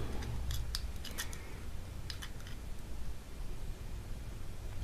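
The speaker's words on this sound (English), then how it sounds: "going to finish it off by using this little tightening key. And tighten it down." A small tightening key tightens a part on a power punch plier. Quiet metallic ticks and clicks come in short clusters over a low background hiss, with no talking.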